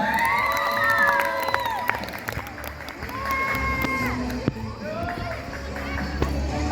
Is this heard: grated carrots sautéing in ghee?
no